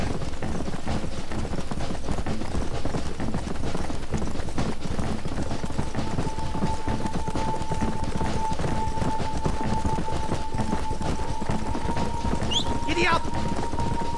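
Horse galloping in Red Dead Redemption, a rapid, even drumming of hoofbeats under constant ambient noise, with a steady tone and a voice talking over the ride.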